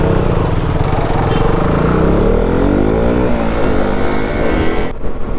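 Several motorcycles ride together on a rainy-season group trip, a KTM RC390 in the lead, with loud continuous engine drone and rising revs that hold steady, then dip briefly near the end.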